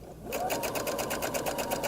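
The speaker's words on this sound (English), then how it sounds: "I'm doing it on the sewing machine. And I'm going to just do a 3/8 inch seam." A sewing machine stitches a 3/8 inch seam on a shirred top, starting after a brief pause and then running in a fast, even rhythmic chatter close by, with no talk.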